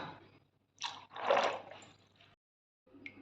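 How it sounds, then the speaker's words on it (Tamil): Star gooseberries being washed by hand in water for jam: soft wet squishing and splashing in a few short bursts, close and fairly quiet, with brief pauses between. "அரைநெல்லிக்காயை நல்லா தண்ணி ஊற்றி கழுவிக்கலாம்"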